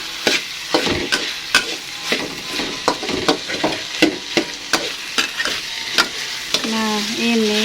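Oncom fries in a hot pan with a steady sizzle, punctuated by regular, sharp scraping strokes of a spatula stirring it, close and loud; a brief voice-like tone sounds near the end.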